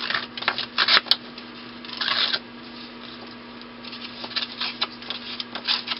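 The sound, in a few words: smoothing torn paper edges with a cutting tool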